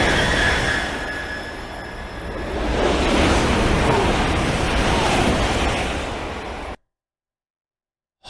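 A high-speed train roars past on a European line, a sustained loud broadband rush that swells mid-pass and then cuts off abruptly into silence.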